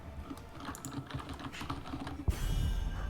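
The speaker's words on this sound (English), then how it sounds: "I believe that's what that typing is" Rapid, faint clicking of a computer keyboard runs steadily in the background at a grand finals esports match, shifting to a louder rustle near the end with no talk.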